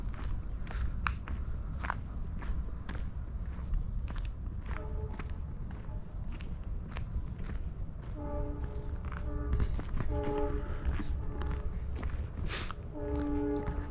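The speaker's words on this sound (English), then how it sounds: "I can hear the noise of a train honking somewhere far away." A train horn sounds in several sustained blasts somewhere in the distance near a forest house in Whitefield, India, faint beneath steady close footsteps crunching along the ground.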